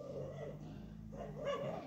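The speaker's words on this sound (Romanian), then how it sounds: "Oh, vai, cățelul meu!" A dog in the video game Minecraft gives soft, brief barks and yips, faint and low in level over a quiet background.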